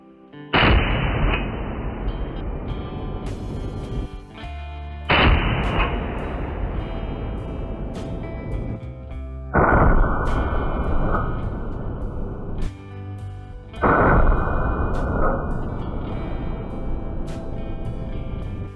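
Four thunderous shots from a Barrett M82A1 .50 BMG anti-materiel rifle, spaced about four seconds apart. Each one is a huge, close blast with a long rolling echo that fades before the next, and there is no talk.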